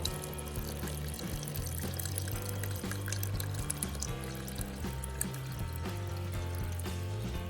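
Continuous water pouring into a pressure cooker pot, a steady splashing stream with low bubbling tones rising as it fills, close by.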